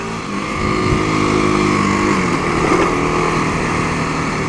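A Kawasaki KLX250SF dual-sport motorcycle engine drones steadily and loudly up close, a buzzy single-cylinder note holding fairly even with slight pitch shifts as the bike rides along.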